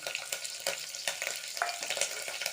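Shallots, green chili and curry leaves sautéing in a pan for sambar, a soft steady sizzle with light stirring scrapes, fairly quiet and close, no voices.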